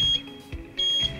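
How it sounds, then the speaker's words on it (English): Two short, high-pitched electronic beeps from a Rotary R138 wheel balancer sound close by, each a steady tone, separated by a brief pause with faint mechanical noise between them. "Pull it in until you get the H and the beep"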